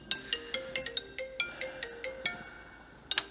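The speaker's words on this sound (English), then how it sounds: "I gotta take this phone call" A phone ringtone plays alone as a bright, repeating electronic melody of short stepped notes, loud and close, running for several seconds before cutting off.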